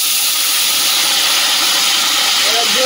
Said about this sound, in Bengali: তরকারির সঙ্গে সঙ্গে ঝোল গপ গপ করে ফুটছে, টকবগিয়ে